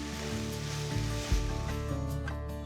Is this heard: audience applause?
no